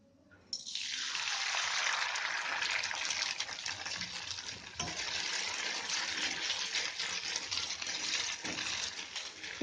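Drained boiled noodles are dropped into hot oil in a pan, setting off a sudden, even sizzling hiss that carries on steadily for about nine seconds, with no talking.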